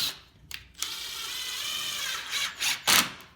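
A 2.5-inch star-bit screw is driven into a wooden stool leg with a close, loud mechanical whir and grind, rising into a few short pulsing bursts near the end, with no talking.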